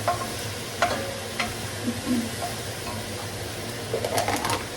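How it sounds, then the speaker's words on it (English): A ham bone and leftover pieces sauté in a pot for split pea soup, giving a soft, steady sizzle with occasional scrapes of stirring, fairly quiet, with faint bird cooing in the background. "I'm going to saute this"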